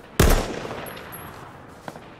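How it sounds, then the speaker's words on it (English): Gunfire in the H1Z1 battle royale game: one loud, close burst opens, then trails off into a reverberant decay, and a faint second shot lands near the end. "Oh, he's shooting."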